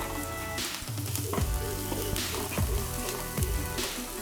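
Spices including cinnamon, curry leaves and chili flakes sizzle in hot frying oil for stir-fried kankung, a steady crackling fry with occasional sharp pops and stirring sounds, close and continuous without talk.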